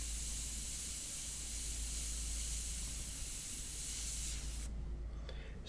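An airbrush sprays India ink onto paper in a continuous close hiss that holds steady, then cuts off sharply, followed by a couple of faint short bursts.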